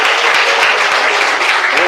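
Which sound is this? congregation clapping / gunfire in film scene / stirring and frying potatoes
congregation clapping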